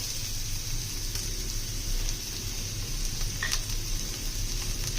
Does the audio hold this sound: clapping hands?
no